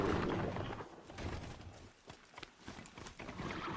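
Horse hooves in the video game Horizon Zero Dawn, a soft, irregular clopping at low volume under a faint background hum, fading and then picking up again in scattered beats.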